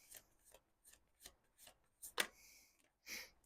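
Tarot cards being shuffled by hand in a series of short, brisk riffling bursts, close and fairly quiet, with no one talking.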